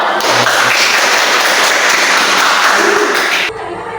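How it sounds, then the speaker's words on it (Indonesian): A classroom of students claps together in a loud, dense burst that runs steadily for several seconds and then cuts off abruptly into quieter room sound. "Tepuk tangan dulu"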